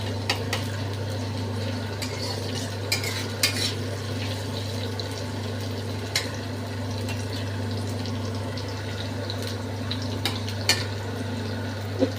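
Vegetables frying in oil and ghee for a mixed vegetable curry with beans, a continuous low sizzle with occasional clinks and scrapes of utensils against the pot.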